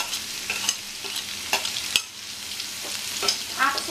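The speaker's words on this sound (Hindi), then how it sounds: "दोस्तों हम पपीता डाल देंगे, दोस्तों इसको भी हम एक मिनट तक फ्राई कर लेंगे तेज आंच पे।" Papaya pieces frying on high heat in a pan, with a steady sizzle under repeated scraping stirs and occasional clacks of the spoon, close up and with no talking.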